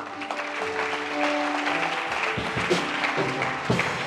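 A church congregation breaks into sustained, dense clapping, steady and fairly full throughout, with faint tonal music or voices underneath.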